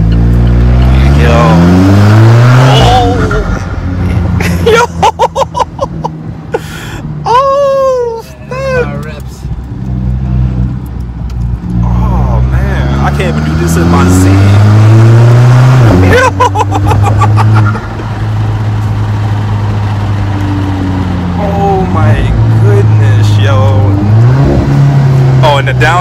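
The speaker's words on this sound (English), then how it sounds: "Downshifts is nice though, I like that." Alfa Romeo 4C engine heard from the cabin, rising and falling through several sharp revving downshifts with crackling blips, loud and close, while people talk excitedly over it.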